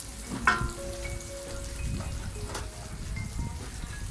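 Large fresh shrimp stir-fry in a hot pan, a steady close sizzle broken by scraping stirs and the clack of a utensil against the pan.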